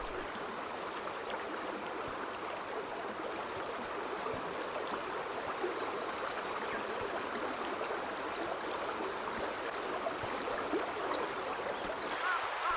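A flooded river on Hokkaido rushes in a steady, dense wash of flowing water, constant and moderately distant, with no voices over it.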